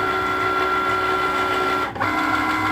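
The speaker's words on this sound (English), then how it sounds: "I'm going to send it into the machine for it to cut." A Cricut cutting machine hums steadily with a steady whir while cutting stickers, briefly dipping then resuming, close and loud with no talking.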